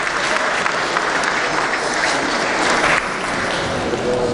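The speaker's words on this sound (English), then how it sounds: "Give him a round of applause," Steady round of applause from the gallery of the West Virginia Legislature chamber, a dense continuous wash of many hands clapping for several seconds, full and even with faint voices mixed in.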